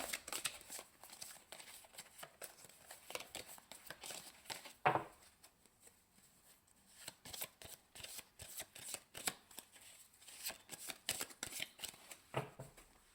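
Tarot cards are shuffled close up in quick repeated riffles and soft snaps, quiet and without speech.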